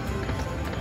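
Galloping horse hooves from a slot machine game in a casino, a fast steady clip-clop rhythm, loud and dense, running continuously through the short moment.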